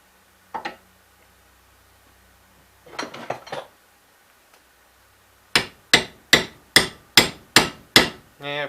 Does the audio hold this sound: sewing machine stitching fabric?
no